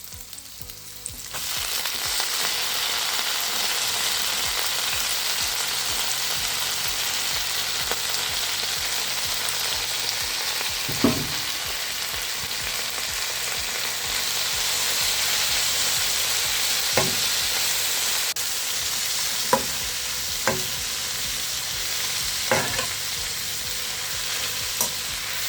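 Mint and coriander leaves sautéing in a pan with oil, a steady close sizzle and crackle running throughout, broken by a few sharp clinks of a spoon stirring against the pan.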